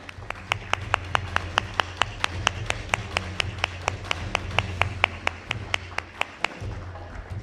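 Audience at a customer experience panel event claps in steady unison, sharp evenly spaced claps about three per second over a low room hum, with no talking.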